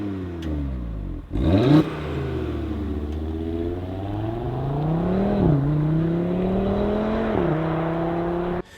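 An Audi TT RS five-cylinder engine with a 1-2-4-5-3 firing order revs up and holds under throttle, its offbeat, warbling roar rising and dipping in pitch, loud, close and steady throughout.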